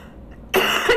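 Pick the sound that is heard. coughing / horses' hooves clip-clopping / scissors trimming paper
coughing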